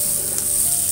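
Green chillies and curry leaves sizzle in hot oil, a brief, steady hiss heard up close and alone, with no talk.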